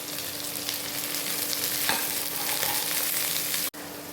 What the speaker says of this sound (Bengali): বিনস আর গাজরটা মোটামুটি ভাজা হয়ে গেছে